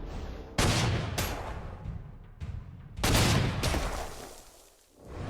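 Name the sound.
artillery fire in Panzer Corps 2 video game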